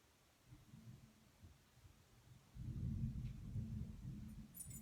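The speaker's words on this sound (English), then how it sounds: "Sounds like our weather's getting ready to change out there. I hear some thunder." Low, distant thunder rumbles faintly at first, then swells into a deeper, louder roll midway that lingers to the end, with no talk over it.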